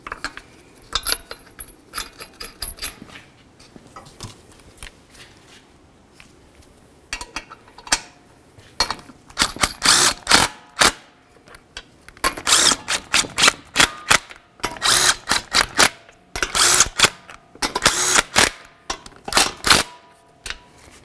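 Metallic clicking and rattling as lug nuts are run down in a crisscross pattern on a 2012-2020 Nissan Pathfinder front wheel during a brake job, starting sparse and growing into loud, rapid close bursts.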